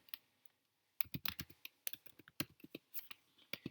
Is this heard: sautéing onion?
no